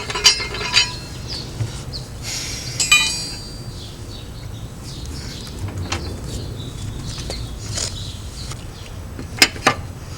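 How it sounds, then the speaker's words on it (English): Metal lug nuts tightened by hand onto a wheel's studs: scattered clinks and ratcheting metallic ticks, close and fairly quiet, with a couple of sharper clanks near the end. "we're going to start with the top one, and we're going to just manually tighten this down"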